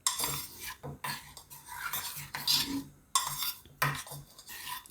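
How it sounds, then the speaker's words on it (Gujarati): A spoon stirs a hot chocolate mixture in a pot, scraping and clinking in a steady rhythm of repeated strokes with brief gaps, close and fairly quiet, with no talk. "આ રીતે આપણે મિક્સ કરી લેવાનું બધું"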